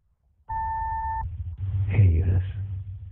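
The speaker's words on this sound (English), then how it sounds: "Please leave your name and phone number after the beep." An answering machine gives one clear, steady electronic beep lasting under a second, and a voice starts speaking right after it.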